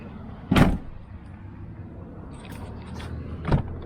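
The tailgate of a 2018 Jeep Wrangler JL opening, a close mechanical latch clunk followed by a quieter stretch of handling noises and a second solid thump near the end.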